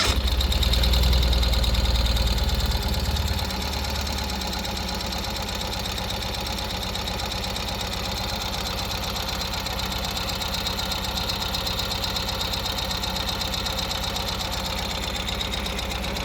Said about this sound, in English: squeeze the clutch with the key turned on, and then push the starter button